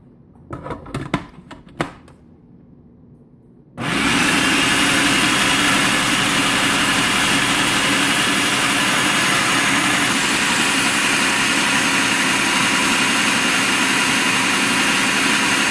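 An electric mixer whips cream toward butter: a few clatters and bumps come first, then at about four seconds the motor switches on and runs loud and steady, with a broad whirring roar, for the rest of the time.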